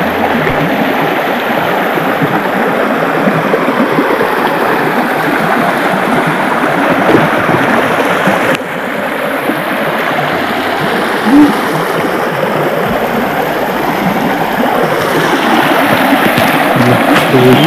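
Clear forest stream water rushes and burbles steadily, a loud close continuous flow with splashing texture.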